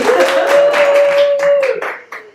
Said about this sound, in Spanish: Pon unos aplausos ahí.